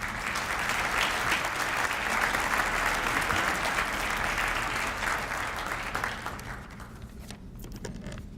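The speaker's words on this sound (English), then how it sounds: "Please join me in a round of applause to welcome Ed Kronk" At a Federal Bar Association event, an audience welcomes a speaker to the scholarship portion of the program with steady, even applause that gradually tapers off over about eight seconds.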